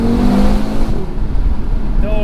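Heard from inside the cabin, the 2020 Audi RS3 engine holds a steady tone, then drops off as the revs fall, leaving a rumbling road and wind roar. Someone speaks over the engine noise.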